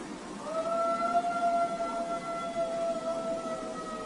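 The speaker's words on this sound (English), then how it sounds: "so I'm wondering if this was just a really old dog trying to howl." Long wavering howl held for several seconds, likely an old dog at night in the American southwest, thin and tonal over a steady hiss of background noise with faint distant dogs.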